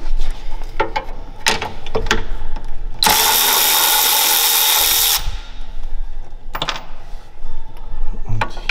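A power tool with a 10 mm long socket removing fasteners from a VW Golf 8 fender: a loud, steady whir for about two seconds, framed by ratcheting clicks and metallic tool handling close by.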